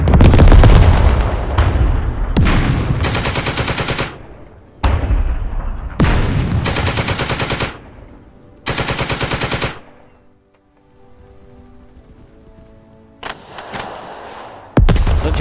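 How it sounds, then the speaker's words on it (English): Heavy gunfire and booming artillery from a village battle in a World War II war game, with loud repeated bursts of shots and blasts separated by brief gaps, then a quieter stretch before firing resumes. "The enemy position their armored vehicles and unleash a barrage in preparation for an infantry"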